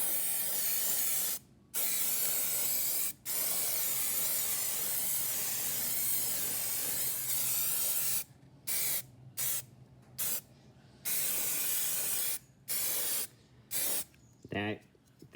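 Aerosol spray paint hisses in long, close bursts onto a Star Wars Legion torii arch terrain piece inside a cardboard box, the steady broadband spray broken by short gaps and then quicker stop-start puffs near the end.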